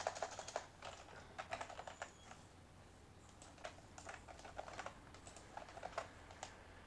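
Data is typed on a computer keyboard for a PHP database form, quiet key clicks arriving in quick irregular bursts with short pauses between, close up and without talk.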